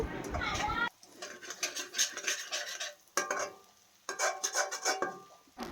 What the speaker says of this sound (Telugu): ఇలా వేసుకున్న ఎగ్ ఆమ్లెట్ని మరోవైపుకు మెల్లిగా టర్న్ చేస్తూ స్పూన్తో ఫ్రై చేసుకుంటూ చిన్న చిన్న పీసెస్ లాగా కట్ చేసుకుంటూ ఫ్రై చేసుకోవాలి